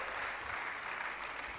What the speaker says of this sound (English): Please, round of applause for Apollo.